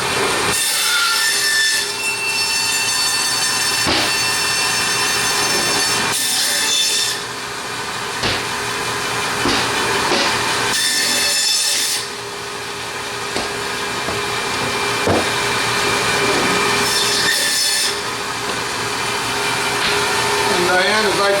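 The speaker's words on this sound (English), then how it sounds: "Been hanging for a bit, so I'm going to have to kind of trim the bone up a little bit." Trimming a beef bone that has been hanging, with steady sawing and scraping strokes against bone and meat, loud and close, running through most of the clip with brief pauses and some background voices.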